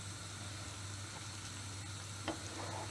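Cajun prawns fry in a pan with a faint, continuous sizzle over a low hum, and a single light tap of a utensil comes near the end.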